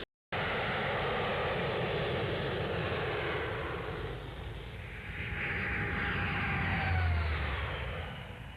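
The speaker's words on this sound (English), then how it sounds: "The delta wing of the V-Force, the mighty Vulcan." Avro Vulcan delta-wing bomber flying past at the Farnborough airshow around 1960, a sustained loud jet roar that dips briefly then swells again as it passes, with no talk over it.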